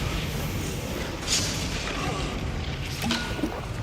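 A Confringo fire spell blast goes off in Hogwarts Legacy, a dull booming impact standing out over a dense, continuous game soundscape, with a couple of short bursts around the middle and near the end.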